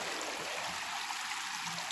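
A river runs steadily nearby, a continuous close rush of flowing water with no pauses and no voices.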